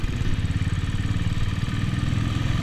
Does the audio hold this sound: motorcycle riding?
yes